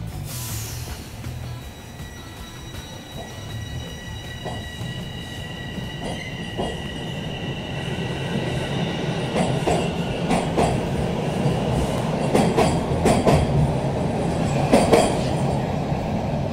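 A Toronto Rocket subway train on the TTC subway rumbles along the tracks, wheels humming and clicking over rail joints, with high squeals rising as it runs; no voices.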